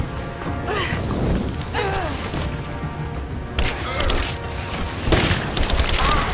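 Gunfire in Rise of the Tomb Raider comes as bursts of rapid shots and impacts over a dense game soundscape, with someone talking in between.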